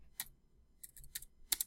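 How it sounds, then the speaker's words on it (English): Fingers type on a computer keyboard in a quiet room: a few separate clusters of crisp key clicks with short pauses between them, close and fairly soft. "I'm just going to type"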